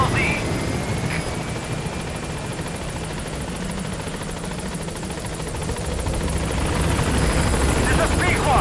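Pequod helicopter in Metal Gear Solid V approaching a landing zone: a loud, steady rotor thrum and engine whine that swells slightly toward the end, with a voice briefly heard over it.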